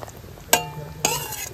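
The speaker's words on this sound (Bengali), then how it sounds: "ঝোলটা ফুটে গেছে, এখন আমি মাছগুলো দিয়ে দিচ্ছি।" Pomfret fish pieces go into boiling gravy in a pan, heard as two sharp clattering impacts about half a second apart, each followed by a brief ringing and bubbling simmer close by.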